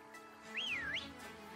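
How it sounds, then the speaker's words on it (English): A video game character in Pokemon Sword whistles once, a clear rising-and-falling tone lasting about half a second over a steady background music bed, with no talking. "What? I can whistle?"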